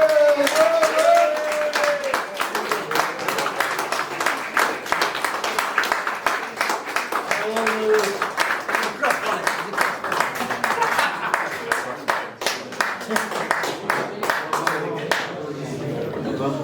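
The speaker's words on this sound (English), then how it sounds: "Let's have a massive cheer, please, for Lewis" A crowd at an awards presentation applauds and cheers for Lewis, dense clapping sustained for many seconds with a voice speaking over it.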